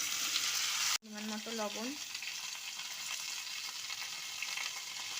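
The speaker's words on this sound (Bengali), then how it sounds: "আমি এগুলো ধুয়ে নিয়ে কেটেছি, আমি এখন তেলে দিয়ে দিচ্ছি।" Cut pumpkin and okra hit hot oil in a village kitchen pan with a steady, loud sizzle and hiss that runs continuously, while a voice speaks briefly near the start.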